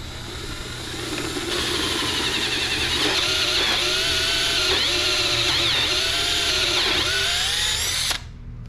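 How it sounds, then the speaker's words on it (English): A power drill bores out a stripped threaded hole ahead of a Time-Sert thread insert repair, its whine rising after a second and holding steady, with rhythmic bogging dips as the bit bites, then stopping abruptly near the end. "The first step would be to drill the hole out."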